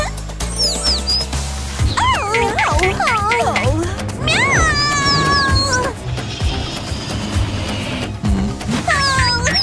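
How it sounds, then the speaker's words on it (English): Repeated cat meows, high and wavering, over a busy background of music and voices, with several calls spread across the clip. "Meow."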